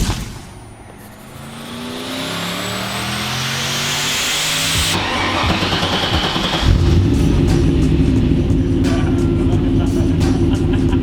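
A Volvo with a Gen 4 iron-block 5.3 liter LS V8 runs on a dyno, loud and close, its engine note climbing steadily in a long rising pull, then holding at a high roaring rev with gritty rasp.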